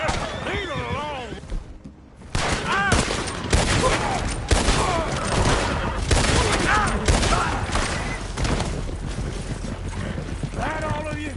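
Gunfire crackles in Red Dead Redemption 2 in loud, dense, irregular volleys of shots. A short quiet gap breaks it up, and voices shout over the fighting.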